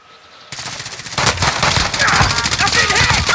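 Automatic gunfire in the Warzone video game starts abruptly and builds into loud, sustained rapid shooting, with other game sounds mixed in.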